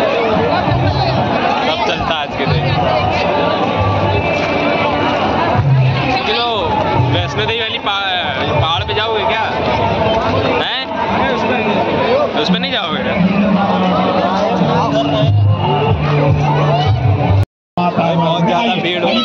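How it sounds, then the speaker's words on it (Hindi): A dense crowd fills the J.K. Temple in Kanpur during a Janmashtami celebration. Many voices merge into a loud, constant babble close by, broken only by a brief dropout near the end. "ज्यादा भीड़ की तरफ हम सब बढ़ते हैं"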